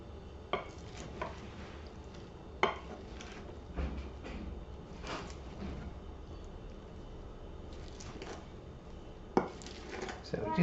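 Prawns stirred in a pan for a warm prawn salad: intermittent clinks and scrapes of a utensil against the pan, fairly close, with quiet speech in the background.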